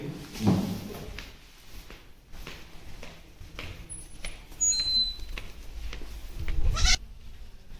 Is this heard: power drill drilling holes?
no